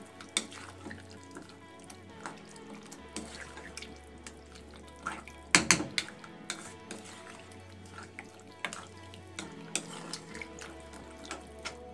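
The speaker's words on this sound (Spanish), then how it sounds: "vamos a ponerle medio vasito de agua, bueno, un poquito de agua" Water poured from a glass into a pan of chicken hearts and potatoes, a faucet-like trickle and splash with scattered drips and utensil clinks, fairly quiet and without talk.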